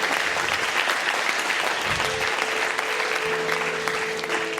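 A congregation at a sermon on Jesus Christ breaks into sustained, dense applause that holds evenly throughout, with no voices over it.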